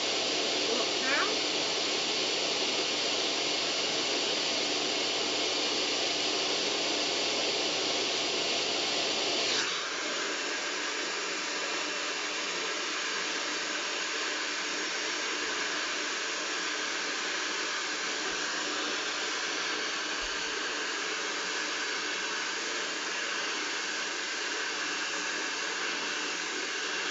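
A hair dryer blowing steadily through a blow-dry styling session, a loud continuous airy roar that drops to a slightly lower setting about ten seconds in and then keeps running without pause.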